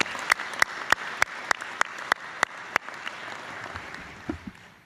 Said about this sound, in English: So please, a round of applause for their support.